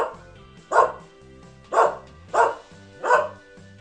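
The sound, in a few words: dog barking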